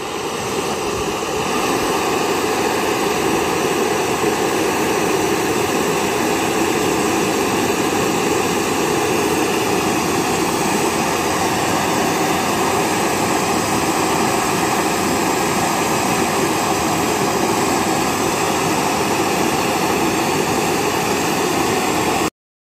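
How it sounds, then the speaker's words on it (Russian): A gas torch burner heating a hard stone roars steadily and loudly for over twenty seconds, a dense constant hiss without pauses, then cuts off abruptly at the end. "Горелка хорошая, мне понравилась, но не хватает температуры."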